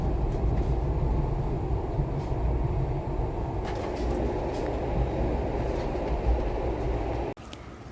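A passenger train in Norway, arriving at Bergen station, rumbles steadily along the tracks, heard from inside with a low continuous roar and faint rattles, then a brief drop at the end.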